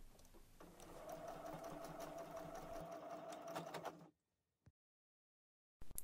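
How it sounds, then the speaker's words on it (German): Sewing machine stitching the final seam of a small fabric pouch and locking it off, a steady whirring run for about four seconds that cuts off abruptly, followed by faint brief clicks. "näht dann zu Ende. Und die Naht verriegeln."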